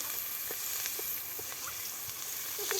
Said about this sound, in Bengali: পেঁয়াজগুলো এখন ভেজে নিচ্ছি